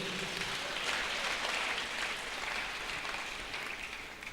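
A church congregation applauds after a call to acclaim the word of God during a sermon, a steady dense clatter of many hands clapping at moderate distance with no voices.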